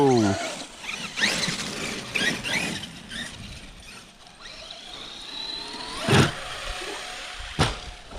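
Revo 2.0 or Rustler RC car revving on throttle outdoors, a high whining electric motor surging in short bursts with two sharp peaks, under casual talk from people nearby.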